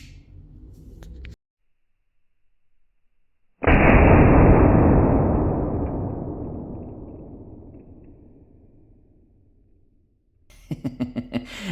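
A blank gun revolver with an open barrel fires a 4.5mm steel ball at wooden boards: one loud, close blast rings out and decays slowly over several seconds, with silence before it and some clattering noise afterward.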